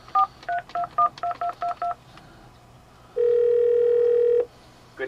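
A vintage Southwestern Bell screen phone dials out with a quick run of about eight touch-tone beeps, then a single steady tone sounds for over a second, clear and close.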